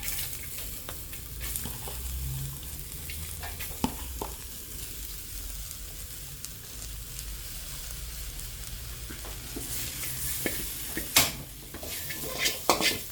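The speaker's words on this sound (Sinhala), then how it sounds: "හොඳයි අපි දැන් ලීක්ස් ටිකක් දාගමු." Leeks sizzle in a hot pan while being stir-fried for string hopper chicken kottu, a constant frying hiss broken by sharp utensil clinks and scrapes against the pan, louder toward the end.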